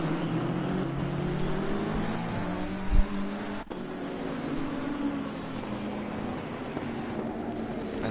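Racing cars, including several BMWs and a Ferrari, at Monza in a sim racing game: a dense, continuous roar of engines close by, with brief bumps of contact and no talking.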